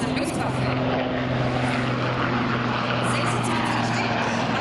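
A Swiss Air Force Puma helicopter produces a steady, loud rotor and engine drone that holds without a break, with a faint tonal whine running underneath.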